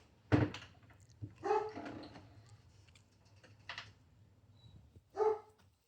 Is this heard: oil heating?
no